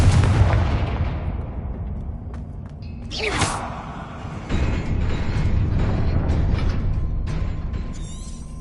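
A Confringo blasting curse goes off in Hogwarts Legacy as a loud explosive burst followed by a rumbling, crackling tail and mechanical debris sounds that last for several seconds.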